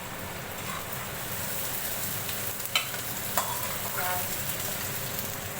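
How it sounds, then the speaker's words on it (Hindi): Onions frying until brown in a pan for a keema-stuffed karela dish give off a steady, even sizzle throughout, with a few light clinks of stirring. "अब हम प्याज को ब्राउन कर लेंगे।"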